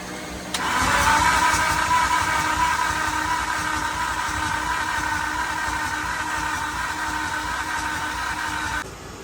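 A Nissan S13 car's engine cranks and fires for the first time, then settles into a loud, steady idle that runs for several seconds before cutting off abruptly near the end.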